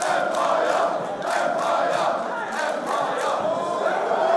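A roaring arena crowd in the wrestling video game wXw Fight Forever, a loud, dense wall of cheering and shouting that swells and pulses steadily throughout.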